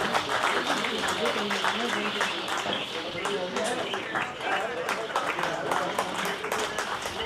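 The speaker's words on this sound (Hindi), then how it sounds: "मित्रों, तालियों से संकोच मत करें," A crowd at a Delhi Hindustani Mercantile Association gathering claps steadily and vigorously throughout, a thick continuous patter of many hands with voices mixed underneath.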